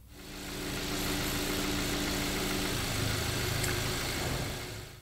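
A car engine idles with no load at about 600 rpm, a steady low rumble with faint knocking vibration that holds evenly for the whole stretch.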